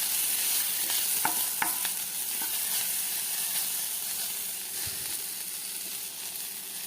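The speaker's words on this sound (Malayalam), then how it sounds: "അങ്ങനെ കടലമാവും ഉപ്പും കൂടെ ചേർത്ത് കൊടുത്തിട്ട് ഒന്ന് വഴറ്റിയെടുത്തിട്ടുണ്ട് കേട്ടോ." Gram flour and salt being sautéed in a curry pan, a steady bright sizzle with a few scraping stirs of the spoon early on, close and continuous.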